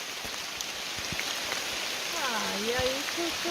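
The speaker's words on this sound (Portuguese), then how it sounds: "chuva." Rain falling steadily in a dense forest at Pau-Brasil National Park, a soft continuous hiss of drops on leaves with occasional nearer patters, and a brief bird call rising near the end.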